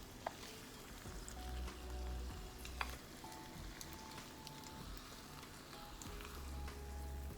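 Eggs frying in a pan for over easy and sunny side up, a steady close sizzle with scattered small pops and crackles and a low background hum, no talking.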